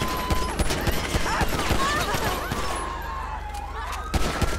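Rapid gunfire crackles through a police shootout in the video game GTA 5, dense overlapping shots over a busy street backdrop, loud and continuous, with voices talking in the mix.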